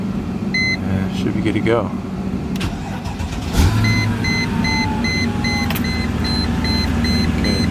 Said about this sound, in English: fans on high